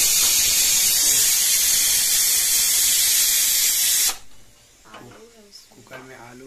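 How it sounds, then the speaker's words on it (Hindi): A pressure cooker with potatoes boiling inside gives off a loud, steady, close steam hiss for about four seconds that cuts off abruptly, after which a person speaks. "कुकर में आलू उबल रहा है"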